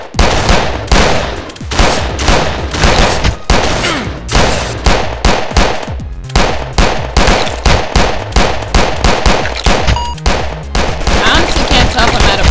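Rapid gunfire from the top-down zombie shooter Zombie Grinder rattles continuously in loud, closely spaced bursts with only brief gaps.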